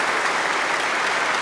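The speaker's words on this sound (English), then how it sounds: "You clap for your rector." A church congregation applauding their rector on his priestly anniversary, a loud, dense, continuous burst of many hands clapping throughout.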